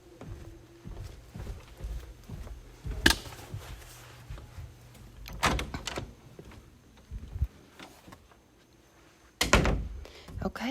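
Doors at the basement stairs of a house in Mineral Bluff, Georgia, give three separate sharp thuds a few seconds apart, faint against a quiet room with some soft talk.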